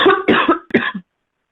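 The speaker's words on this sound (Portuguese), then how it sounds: "Tosse de sempre." Three quick, harsh coughs in a short burst, close and loud, followed by silence.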